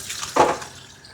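Tap water gushes briefly for wetting a dog's greasy coat during grooming, a single short splash burst in an otherwise quiet room.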